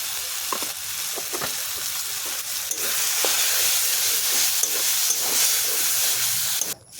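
Spices with salt and turmeric fry in a pan while being stirred, giving a loud continuous hissing sizzle that swells partway through, with scattered scraping strokes and a clunk at the end; no voices.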